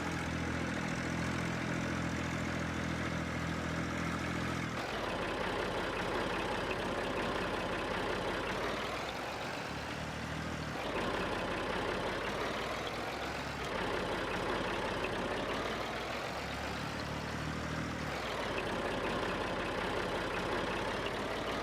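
Tractor engine in Farming Simulator 19, a steady droning motor that idles and revs, with its pitch rising and falling in slow swells as the load changes, heard alone and moderately loud throughout.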